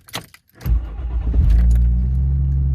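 A car engine cranks and catches after a brief jingle of keys, then settles into a steady, close idle inside a garage, with no voices over it.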